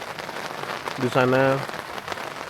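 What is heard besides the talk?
light drizzle rain at campsite in Puncak, Bogor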